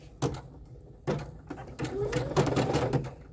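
An embroidery machine sews guide stitches, giving short mechanical bursts followed by a steadier run of stitching, fairly quiet, with faint talk.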